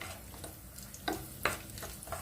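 Raisins and cashews frying in ghee, a bright close sizzle broken by a few sharp stirring scrapes against the pan.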